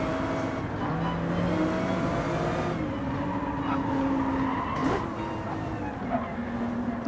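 A Hyundai and a Ferrari race on a grand highway track in a racing video game, their engines droning and shifting pitch steadily as they run close together, with tire and brake noises breaking in now and then.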